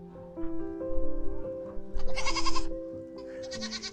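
Goats bleat loudly nearby on a farm at evening chores in winter, two or three quavering calls overlapping a steady low hum in the background.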